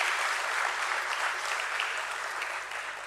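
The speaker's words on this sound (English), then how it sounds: "A big round of applause for all the students and their professors." Applause from an audience at a stock exchange listing ceremony for Godavari Bio Refineries at BSE: a steady wash of hand clapping from a crowd, moderately loud and slowly tapering off, with no talking over it.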